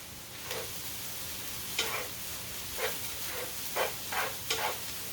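Rice mixed with sofrito heats in a pan with a soft continuous sizzle, broken by several short scraping stirs of a utensil at irregular intervals, quiet and close.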